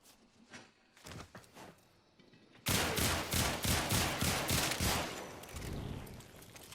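Rapid bursts of pistol fire from the Sicarus Prime in Warframe, a few scattered shots first, then a loud sustained barrage of fast repeated gunfire close up.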